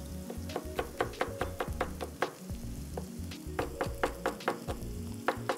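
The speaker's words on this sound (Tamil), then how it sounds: "நல்லா சாட்டே பண்ணோன்னு கேப்சிகம்" Capsicum and red bell pepper sautéing in a pan with onion, a steady sizzle broken by a run of sharp, rhythmic scraping clicks from a spoon stirring the pieces, close and fairly loud with no talk.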